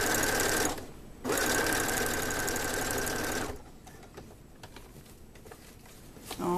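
A sewing machine stitches a tote bag in a loud, fast, steady mechanical patter, pausing briefly, running again, then stopping, with quiet handling noises after.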